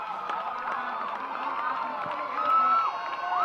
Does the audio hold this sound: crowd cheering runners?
yes